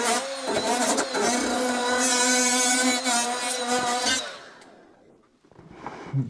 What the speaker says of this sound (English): So here's my grinder. I'll do it from far away, and let's see what happens.